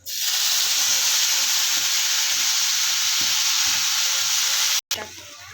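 Spice paste for a Bengali coriander-leaf baul fish dish frying in a pan with whole cardamom and dried chillies, a loud, steady sizzle that cuts off sharply near the end and then resumes more faintly.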